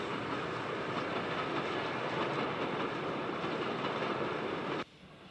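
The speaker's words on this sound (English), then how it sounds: "Two BR Standard 460s, Class 4 number 75009 and Class 5 number 73054 were the Whitmundy excursion from Bristol to Bournemouth" Two BR Standard steam locomotives, Class 4 No. 75009 and Class 5 No. 73054, haul a 1965 Bristol to Bournemouth excursion train with a loud, steady rumbling clatter that cuts off abruptly near the end.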